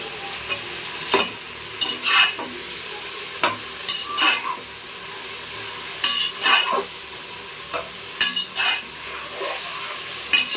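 Mushrooms for mushroom biryani sauté in a sizzling pan under a soft, steady frying hiss, with clusters of sharp spatula scrapes and taps against the pan every couple of seconds.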